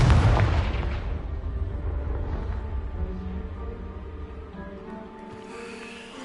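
Casting the Confringo explosive spell in the Hogwarts video game sets off a loud booming blast right at the start, which fades into a lingering rumble with soft musical tones beneath.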